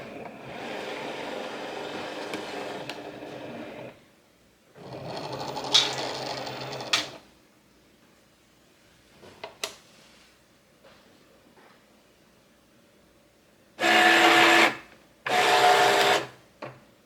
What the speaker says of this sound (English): So the Cricut is going to go and read these registration marks. That's how it knows how to cut around the images